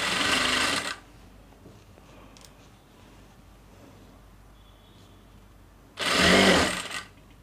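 A sewing machine stitches the belt strip onto the back neck of a square-neck blouse, running in two short, steady bursts at the start and end with near silence between them.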